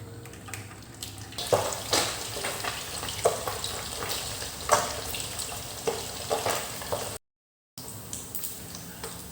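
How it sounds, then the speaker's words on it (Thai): Snakeskin gourami fish deep-frying in hot oil gives a steady, fairly quiet sizzle broken by bursts of crackling and popping, with no voices. "ก่อนอื่นเราต้อง ทอดปลาสลิด ให้กรอบก่อนครับ"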